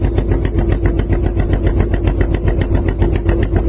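A trawler boat's engine chugs in the Sundarbans mangrove forest, a steady, close, loud rhythmic throb that runs unbroken throughout with no voices.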